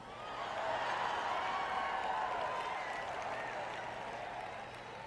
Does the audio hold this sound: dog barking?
no